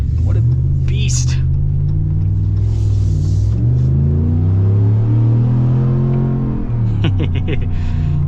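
Deep, steady rumble of a Hennessey Mammoth 400 truck engine revving, its low tone rising and falling smoothly, loud and close, with brief higher noises near the start and end.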